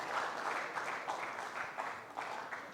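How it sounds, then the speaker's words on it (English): Applause from the audience at a college motivational talk comes through as a soft, steady wash of clapping that sounds somewhat distant and stays faint throughout. "Give yourselves a round of applause for the efforts that you've been making to improve yourself"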